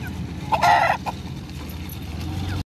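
Chickens and roosters on a village poultry farm, a sudden loud squawking cackle burst from a nearby bird standing out over a continuous background of softer clucking from the flock.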